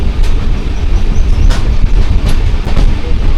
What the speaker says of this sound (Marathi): आले ट्रेन संगमेश्वर रेल्वे स्टेशनला